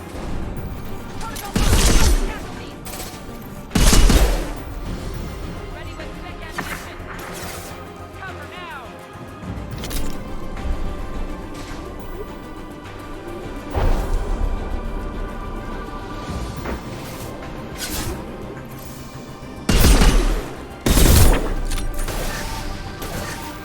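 Gunfire and crashing impacts in the sci-fi shooter Mass Effect 2, with loud bursts around two, four and twenty seconds and lighter shots scattered between, mixed with game effects and voices.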